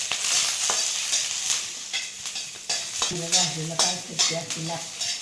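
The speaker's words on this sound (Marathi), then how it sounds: "आता मिरची भाजून घ्यायची आता काय काय टाकलंय लसूण आणि मिरची" Green chili and garlic roast in hot oil in a pan, giving a steady close sizzle broken by sharp scraping and clattering strokes as the pieces are stirred, with no talk.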